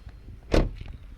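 A 2020 Volkswagen Polo 1.0 TSI door swings shut with one solid, close thud that comes out of a quiet background. A short bright burst sits over the low, heavy impact.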